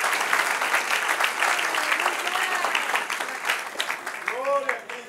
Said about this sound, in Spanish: Denle un aplauso al que vive y reina